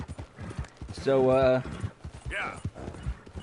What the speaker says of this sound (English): Sasha here is literally the best horse in the game.